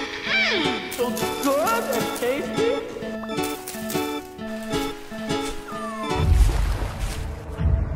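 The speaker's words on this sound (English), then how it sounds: "You heard it? It went. Meow." Animal cries in Vintage Story, several sliding meow-like calls mixed with yelps and a rhythmic musical backing, followed by a louder low rumble near the end.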